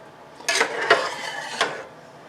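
A spoon stirs shrimp and sausage pasta in a pot, giving three or four soft scraping clinks close by, spread unevenly over a couple of seconds.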